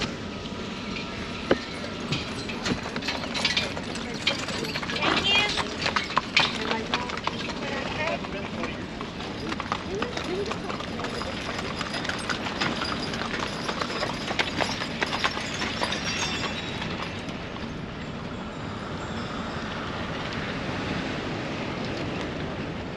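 Hooves of horses pulling a wagon train clip-clop along a road, a steady rhythmic patter heard from nearby outdoors under wind rumble, fading toward the end.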